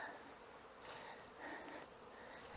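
Honey bees hum and buzz around hives at a sugar syrup feeder during winter preparation, a steady faint drone of many wings with gentle swells as individual bees pass closer.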